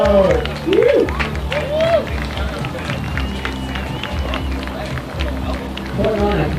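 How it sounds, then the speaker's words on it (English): A crowd at a Canadian national surfing championship claps and cheers for the winner, with scattered applause running beneath a loud voice talking over it. "Let's give her a round of applause, guys"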